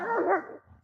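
One dog lets out a single loud, close, drawn-out bark outdoors in snowy Russian countryside, standing alone without talk.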